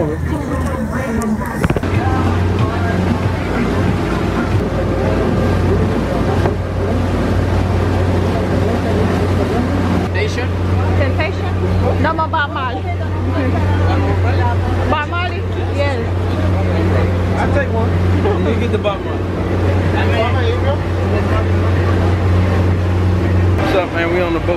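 A catamaran's engine drones steadily at close range on the sea off Mexico while water rushes past, with people talking and chatter mixed in throughout.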